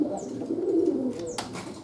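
Racing pigeons coo nearby in a low, throaty rolling call, with a faint chirp and a short rustle near the end and no talking.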